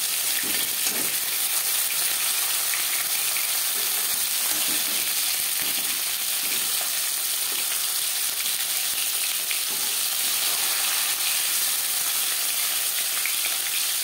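Chela fish fry in hot oil in a pan for a fish curry with brinjal, a loud, dense and steady sizzle that runs throughout with faint stirring and no talking.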